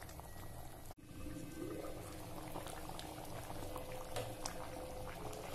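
Matar paneer curry with peas bubbles gently in a pan, a steady close simmer of soft pops and sizzles with a brief thump near the start.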